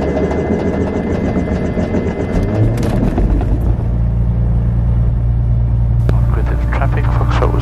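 A Beechcraft Bonanza E33 rolls down runway 24 for takeoff, its engine a loud, steady rumbling drone that builds and firms up partway through, heard from inside the cockpit under radio talk.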